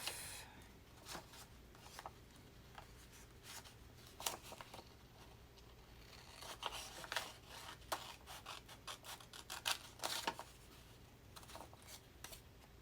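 Scissors snip through tea-dyed paper on an envelope at close range, a scattering of short, quiet crisp cuts and light paper rustles spread unevenly across a hushed room.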